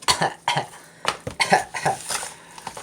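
A series of harsh coughs from inhaled dust, about half a dozen in quick succession, close and fairly loud.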